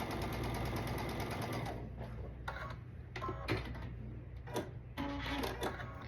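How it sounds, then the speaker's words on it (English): A sewing machine runs steadily, stitching quilt scraps a scant quarter inch from an earlier seam; its close, continuous motor hum and rapid needle chatter are broken by brief pauses and a few louder mechanical clicks. "I'm going to stitch a scant 1/4 inch away from that stitch line that I did."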